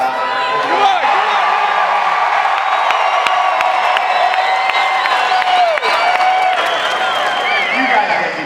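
A large, enthusiastic crowd at the CrossFit Games arena cheers, whoops and claps continuously, loud and dense throughout with scattered shouts on top.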